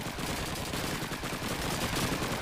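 Call of Duty 2 battle: dense, continuous crackle of distant rifle and machine-gun fire under a steady wash of noise, with no clear single shot standing out.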